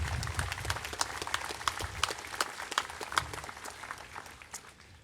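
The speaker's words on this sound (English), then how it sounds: "Give them a round of applause." Audience applause at a veterans memorial dedication in Brownsville, a crowd clapping steadily at moderate distance for about five seconds before tapering off.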